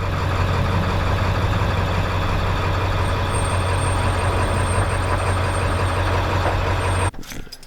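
A converted school bus sits parked with its engine idling, a loud, steady low rumble throughout that cuts off near the end, followed by a brief clunk.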